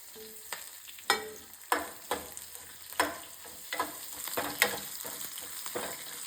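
Garlic sizzling in a pan while a spoon stirs it, sending sharp scrapes and knocks every second or so over a steady low hiss, close and alone.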